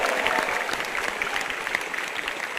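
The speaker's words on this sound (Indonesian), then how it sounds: "Tepuk tangan lagi." Audience applause at a televised stand-up comedy show, a moderate, continuous patter of many hands clapping with small peaks, heard without speech.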